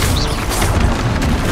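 A fire spell cast during Hogwarts Legacy combat, a loud, continuous whooshing roar of flame that fills the whole moment without any voices.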